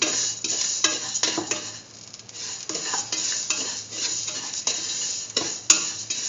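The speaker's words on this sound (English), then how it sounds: "Mix in the sugar with the vermicelli. Thoroughly saute mix." Vermicelli and sugar are stirred and sautéed in a pan, with a constant light sizzle under repeated scraping and clinking strokes of a utensil against the pan, close and fairly loud.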